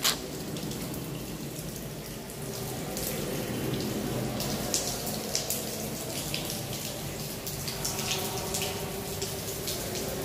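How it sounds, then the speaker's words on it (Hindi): Water streams out of several openings in the wall of the stone tank at Jama Masjid, Mohammad Ali Road, Mumbai, a steady rushing splash that stays close and constant throughout with no one talking. "पहाड़ के अंदर सभी ऐसे ही पानी निकलता रहता है ना"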